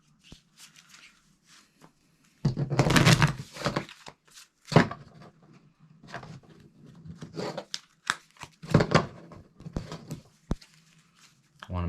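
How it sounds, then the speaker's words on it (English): A Sacred Forest Oracle deck is shuffled by hand in a series of crisp papery riffles and bursts, some louder and closer than others, with a faint low hum running underneath. "I want to make sure I shuffle them good"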